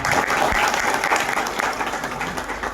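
Applause from an audience at a kirtan gathering fills the entire short stretch as a dense, continuous patter of many hands.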